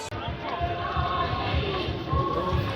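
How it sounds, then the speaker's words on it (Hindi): A large gathering of pilgrims at Kedarnath temple calls out praises of Baba Kedar, a steady wash of massed voices, somewhat distant and unbroken throughout. "पूरा केदारनाथ परिसर बाबा के जयकारों से गूंज रहा है।"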